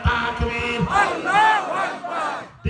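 A crowd chanting a slogan together at a Bangladeshi religious gathering, several loud rhythmic shouts rising and falling in unison, with a lead voice calling between them.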